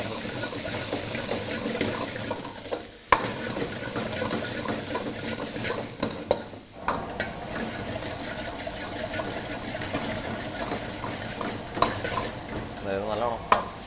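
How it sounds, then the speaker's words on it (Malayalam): Chicken pieces sautéing in a pan for a Kerala dish, a continuous close sizzle with steady stirring and scraping, occasional sharp knocks of the utensil against the pan, and no talking. "ചിക്കൻ ഇട്ട് കഴിഞ്ഞിട്ട് നമ്മളൊന്ന് സോട്ട് ചെയ്യും"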